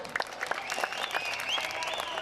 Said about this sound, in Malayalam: നല്ലൊരു കൈയടി കൊടുക്കുക